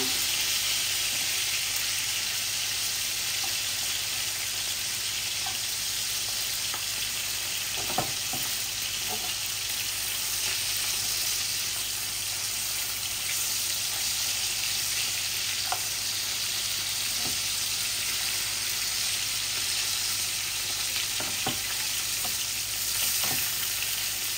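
Rohu fish fry in hot oil with a loud, unbroken sizzle, close and steady, broken by scattered sharp spatter pops and occasional clicks, no voices.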